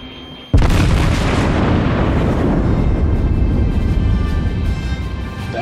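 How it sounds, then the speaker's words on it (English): A battleship's naval guns fire in World of Warships with a sudden huge boom, followed by a long, loud rumbling roar that slowly tapers off over several seconds. "Battleship on battleship combat."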